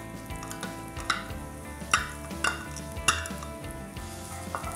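Onion frying in a little hot oil in a single pan, a steady soft sizzle broken by several sharp scraping knocks of a utensil stirring against the pan.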